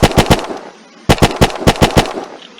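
MP40 submachine gun firing in the video game Unturned: two sharp automatic bursts of rapid, loud shots, the first of about four rounds, then after a short pause a longer burst of roughly eight.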